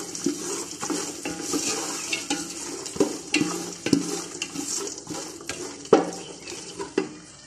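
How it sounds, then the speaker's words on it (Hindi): Chickpeas sizzle and crackle with spices in hot oil while a spoon scrapes and stirs against the pan in irregular knocks, close by, with no voices. "अब मैं इसमें चने ऐड करूँगी और चनों को भी थोड़ी देर भूनेंगे"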